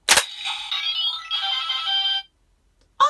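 Kamen Rider Build toy from the Octopus Light Fullbottle set giving its random special win jingle, a sharp opening hit then a bright electronic ringtone-like melody for about two seconds, followed by silence and a short trailing sound.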